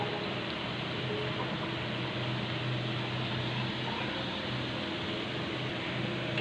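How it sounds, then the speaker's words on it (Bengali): Mini singaras frying in hot oil, a steady dense sizzle and crackle that stays loud and even throughout with no talking. "এই যে সিঙ্গারা ভাজার কাজ শুরু হয়ে গেছে"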